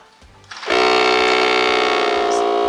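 A portable tire inflator set to 35 PSI kicks on after a click and runs as a loud, steady, close buzzing drone with a constant whine throughout.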